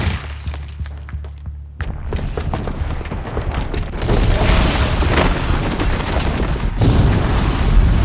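A bomb booby trap goes off in Horizon Zero Dawn: a deep boom hits, then rumbling explosion debris and thuds roll on and swell, with a second heavy blast near the end, loud and close.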